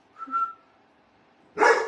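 A dog lets out a brief high whine near the start, then after a quiet pause gives one loud, close bark near the end, with no one talking over it.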